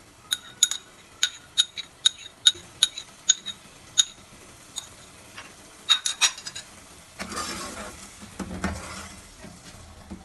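A spoon clinks rhythmically against a pan while stirring tomato paste into frying masala, a series of bright metallic taps followed by a louder burst of sizzling toward the end, close and without talk.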